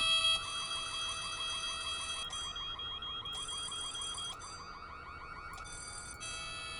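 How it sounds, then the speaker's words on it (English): A safe's electronic alarm rings in the video game White Day, a thin warbling whoop-like tone repeating in a steady rhythm, fairly quiet and alone, with brief breaks between bursts. "Safe's alarm is ringing."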